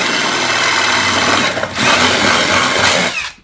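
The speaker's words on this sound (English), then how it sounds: "I'm using a step drill, by the way." A power drill with a step bit whirs steadily drilling a hole, briefly dipping before spinning up again and cutting out at the end, loud and close.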